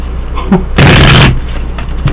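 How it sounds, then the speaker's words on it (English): Tarot cards are shuffled in one quick, loud riffle that ends in a brief burst, with light handling taps before and after. "One more good shuffle."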